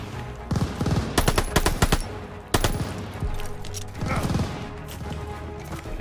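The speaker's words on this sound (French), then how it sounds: "Qui me tire dessus?" Rapid automatic gunfire bursts and single shots from the World War II shooter Call of Duty: Vanguard, loud and close, in repeated clusters over a continuous game soundscape.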